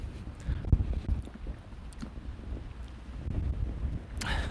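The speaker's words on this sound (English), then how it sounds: "we got about 10 to 15 mile an hour wind here. Maybe gusts up to 20 or so." Wind gusts of about 10 to 15 mph buffet a microphone outdoors, giving a low rumbling roar that rises and falls in uneven bursts, with no talk.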